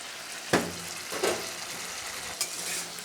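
Shrimp and spice paste cooking in oil in a pan for a papaya and prawn ghonto, a continuous close sizzle broken by a few sharp spatula scrapes and clacks against the pan.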